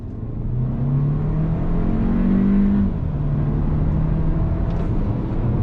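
Hyundai Kona N-Line (2022) accelerating on throttle from a rolling start, a steady engine drone climbing in pitch through about three seconds, dropping at a shift, then pulling on, loud and close throughout.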